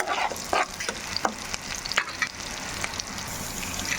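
Three spoonfuls of peanuts fry in hot oil in a pan, a steady close sizzle with irregular scraping taps of a spoon stirring them, no voices.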